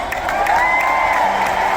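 A comedy club audience breaks into steady applause mixed with cheers and a few whoops, a dense, loud wash of clapping that holds evenly from start to finish.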